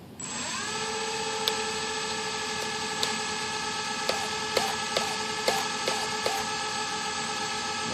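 A small electric motor on an E-flite Aero Commander UMX model plane spins up into a steady, high, close whine with a rich overtone layer, holding even throttle, with a few faint ticks over it and no talk.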